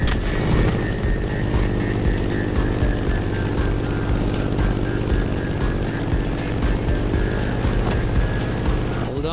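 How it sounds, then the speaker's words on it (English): A Grumman F8F Bearcat propeller fighter flies in The Crew Motorfest racing game, its piston engine droning loud and continuous with a rough, buzzing propeller rumble that holds steady throughout. "In the cockpit of a stunning Grumman F8F Bearcat, or simply the Bear."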